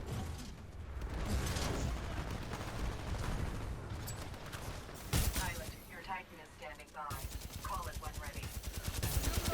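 Volt SMG fire in Titanfall 2: rapid automatic bursts crackle in a steady stream, with mechanical clatter and pauses between strings, loud and close, alongside other game sounds.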